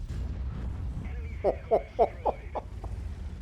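Tank gun firing in World of Tanks, a quick run of about six sharp booming reports in close succession, loud and near, following a brief low rumble.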